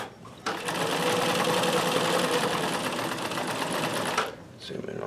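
A vintage sewing machine running a stretch stitch cam hums and clatters in a fast, steady mechanical rhythm for about four seconds, close and loud, then stops.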